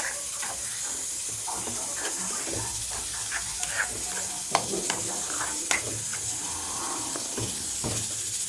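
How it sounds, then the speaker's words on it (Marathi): Besan being stirred into Sindhi palak in a hot pan, a steady sizzling hiss with scattered scraping and clinks of the spoon, close and continuous with no speech. "आता बेसन टाकणार आहोत. हे हलवून घेऊया."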